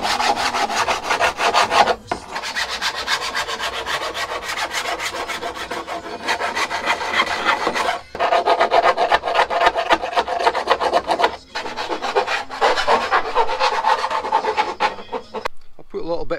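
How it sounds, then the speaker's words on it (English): Hand file rasping a burr off a bare metal edge on a Renault Trafic van during a camper conversion, loud repeated back-and-forth strokes in steady rhythm with brief pauses, up close. "There's a bit of a bar all the way around the metal here,"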